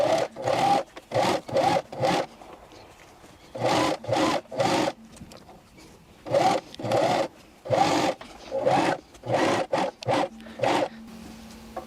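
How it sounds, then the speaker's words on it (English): A Janome CoverPro 1000CPX coverstitch machine sews fabric in short rapid bursts, about a dozen runs of fast mechanical stitching separated by brief pauses, close and clear. "as I'm sewing over it, I'm just kind of pulling the fabric through enough so that the machine doesn't have a chance to stall over"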